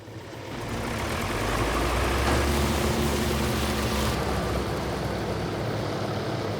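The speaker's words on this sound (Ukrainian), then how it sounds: "Вмикаю двигун." An engine starts up, rising quickly into a loud, steady mechanical hum with a low droning tone that holds evenly for several seconds, with no voices.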